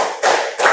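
Two crisp unison claps from a class of students land close and loud, one right after the other with a short gap.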